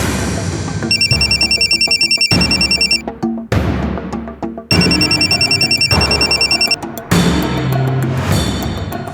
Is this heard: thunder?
no